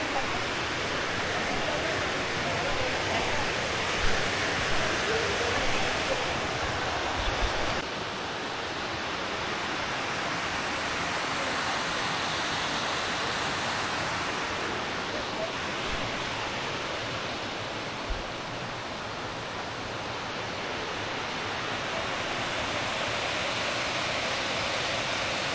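A clear stream flowing in a reserve forest on the Kerala side near Achankovil, a steady broad rush of water that stays even and moderately loud for the whole stretch, with no talk.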